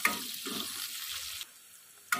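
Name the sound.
stirring onion, ginger, garlic and chilli frying in a pan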